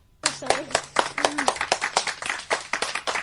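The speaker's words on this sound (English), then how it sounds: "Choisi, you absolutely deserve to get the clap." A burst of rapid hand clapping, sharp and steady, with a short vocal tone sounding underneath near the start.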